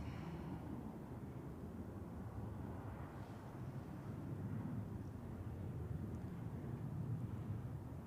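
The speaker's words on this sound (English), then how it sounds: "we also have the first Swiss Heavy taxiing to runway 16 there" A Swiss heavy airliner taxis at Zurich Airport toward runway 16, a distant low engine rumble that swells slightly toward the end, mixed with wind noise.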